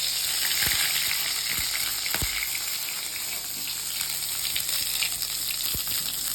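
Whole spices sizzle in hot oil as a tempering for bhog-style khichuri, giving a loud, steady frying hiss with a few stir clinks and scrapes.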